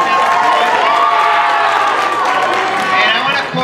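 An audience at a school talent show applauds and cheers loudly in a crowded room. The sustained clapping fills the whole stretch, with voices mixed in.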